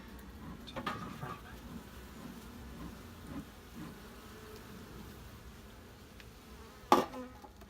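Honeybees buzz faintly around an open hive during an inspection, a soft continuous drone with a few closer passes and a sharp knock near the end.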